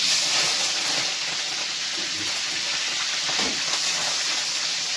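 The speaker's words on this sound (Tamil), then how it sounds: "கடுகு பொறிஞ்சிருச்சு கருவேப்பிலை கொத்தமல்லி பச்சை மிளகா போட்டுக்கலாம்" Mustard seeds, curry leaves and green chillies sizzle in hot oil, a loud continuous hissing sputter that stays steady and close throughout, heard alone without talk.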